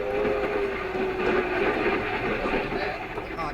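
In a radio drama, a commuter train sound effect rolls on continuously with a steady rumble and rhythmic rattle, a faint whistle-like tone running underneath, while someone talks over it.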